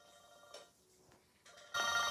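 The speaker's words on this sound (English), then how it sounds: "phone ring" A telephone rings in short electronic trills, faint at first and then suddenly louder at the end.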